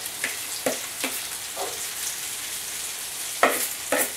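Marinated shrimp and pork fajita filling cooking in a home pan, with a soft steady sizzle broken by several sharp scraping stirs spaced through the moment, fairly quiet and close.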